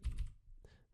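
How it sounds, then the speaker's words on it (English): Keys clatter on a computer keyboard as code is typed, a few quick faint clicks in two small bursts with a pause between, quiet and close. "if I open this parentheses, I can start typing the code"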